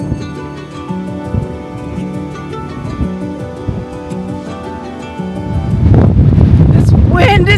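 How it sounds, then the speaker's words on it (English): Strong wind on the Scottish coast blasts across the microphone in the last couple of seconds, a loud, rough buffeting. It follows quieter, steady background sound, and a voice speaks during the gust. "This wind is crazy!"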